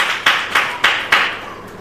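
A church congregation claps hands together in praise, four or five sharp, evenly spaced bursts of clapping, fairly loud and close, with no talking.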